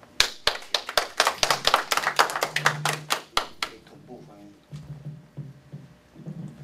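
A modest audience at the opening ceremony of a Chinese-American Dream photo exhibition in the UN building claps for director Qin, with distinct, fairly close handclaps for about three seconds before they fade and a voice begins speaking.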